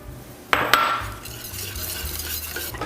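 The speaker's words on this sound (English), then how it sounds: "Grab your whisk and mix that in." A whisk stirs a shallot and garlic mixture for lobster mac and cheese in a pan, with two sharp clinks at the start followed by a steady, close scraping swirl.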